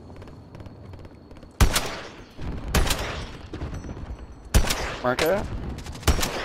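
Bursts of gunfire in a video game set on an icy field, several loud volleys arriving in clusters with rapid automatic fire, while players talk over the action.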